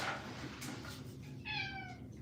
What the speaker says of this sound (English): Look at my kitty.